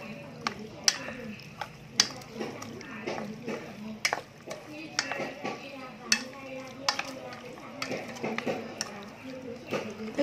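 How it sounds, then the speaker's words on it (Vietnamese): Chicken pieces being stirred by hand with ginger, sugar and turmeric for a marinade, giving soft repeated wet squelches and occasional sharp clicks against a bowl, fairly quiet and close. "Rồi bây giờ mình sẽ trộn đều lên."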